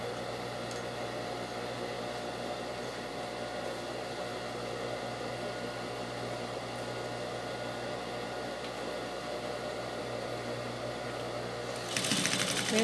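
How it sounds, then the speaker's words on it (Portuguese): A sewing machine runs in one steady, continuous whir while stitching a small pocket, close and even throughout, with a brief louder rustle of fabric handling at the very end. "a gente vai passar uma costurinha aqui para poder prender um no outro"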